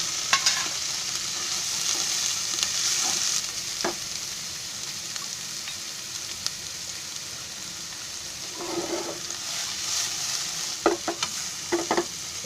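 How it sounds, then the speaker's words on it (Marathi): Paneer frying in oil left over from fried potatoes gives a continuous soft sizzle with occasional spoon clinks and scrapes, close and steady; no voices. "तर त्यात तेलामध्ये आहे ना ते बटाटे काढले आहे, त्याच्यामध्ये पनीर घेते फ्राय करून"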